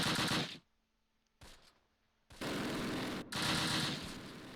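Bursts of sustained automatic gunfire in the World War II strategy game Close Combat, loud dense rattling volleys that cut off abruptly between short gaps of near silence.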